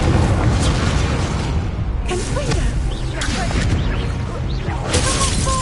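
The Incendio fire spell being cast in Hogwarts Legacy sounds like dense roaring fiery whooshes and bursts that fill the whole stretch, with a voice talking at times.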